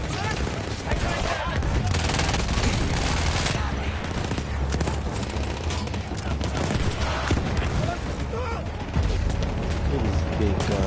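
Sustained automatic fire from a big gun in a PS4 shooter, dense continuous bursts of loud gunfire filling the whole stretch with heavy low rumble and clatter, with game sounds layered throughout.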